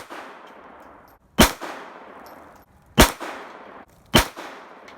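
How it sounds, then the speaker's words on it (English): Three sharp, loud single-action shots from a .32 ACP pistol ring out at uneven intervals, each with a short echoing tail fading into quiet. "These are all single-action shots."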